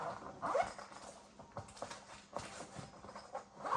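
A zipper on a Helix Stadium XL backpack is drawn closed in several short, scratchy pulls, quiet and close, with faint rustling of fabric between strokes.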